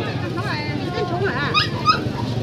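At a dog market in Bac Ha, a dog gives short yips, whimpers and barks close by, mixed with people talking and general market bustle.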